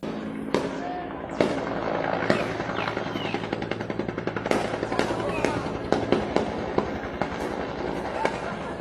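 Gunfire during a police shootout near a school in a residential community: rapid bursts and scattered sharp cracks ringing out repeatedly over ongoing background noise, with faint voices.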